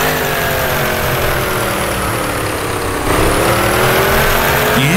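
A vintage Dick Seaman Special race car in Assetto Corsa holds a loud, continuous engine howl with a harmonic pitch that climbs and shifts, then jumps louder as the revs change partway through.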